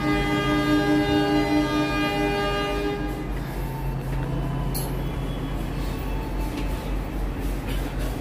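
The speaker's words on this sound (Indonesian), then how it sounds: "Bentar lagi keretanya akan segera diberangkatkan" A loud train horn sounds for a few seconds at a Bandung station, then gives way to a steady rumble of the feeder train idling at close range before departure.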